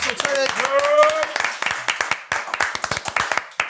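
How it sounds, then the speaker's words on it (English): Hands clapping on a sports podcast, dense and loud at first under a speaking voice, then thinning into sparse, distinct individual claps toward the end. "Round of applause, everybody."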